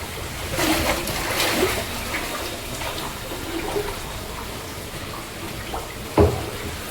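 Steady rushing of floodwater after a heavy rainstorm in Kukanur town, Koppal district, flowing into homes, a broad wash of noise with a brief louder splash near the end.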